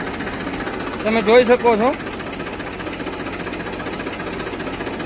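A Massey 1035 tractor engine runs steadily nearby while its hydraulics work, with someone talking briefly over the rumble.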